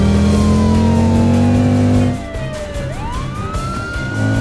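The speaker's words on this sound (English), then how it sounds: "Police car has turned on the siren." A cartoon toy police car's electronic siren wails loudly with a rising and falling tone, then shifts to a higher sweeping pitch after a brief engine rev, close and clear with no talk.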